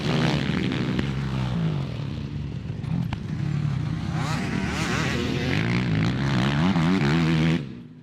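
A Chinese four-stroke dirt bike and an Austrian KTM two-stroke race each other with loud, continuous revving engine roar. The pitch rises and falls as the riders shift, and a commentator talks over the noise.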